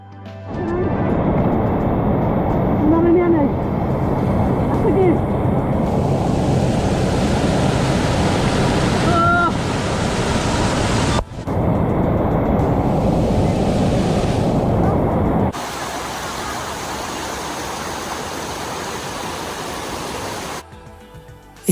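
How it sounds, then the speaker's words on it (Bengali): A mountain waterfall in South Korea roars loudly and steadily as a dense, close wash of falling water, breaking briefly near the middle before carrying on with a thinner, hissier tone. "শব্দ বলতে শুধু পাহাড়ি ঝর্নার সুরলাহরি"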